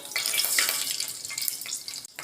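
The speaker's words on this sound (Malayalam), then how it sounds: "കടുക് പൊട്ടട്ടെ കേട്ടോ" Dense, crackling hiss of seeds spluttering in hot oil, steady and close, with a brief dip near the end.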